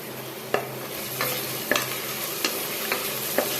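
Onion, cinnamon and cloves fry in hot oil for mint rice, sizzling steadily under five or six distinct spoon strikes against the pan at irregular intervals.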